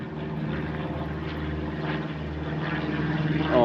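A propeller plane flies low overhead above the Australian outback, its steady droning engine holding loud and continuous for several seconds before swelling slightly nearer at the end, with no talking.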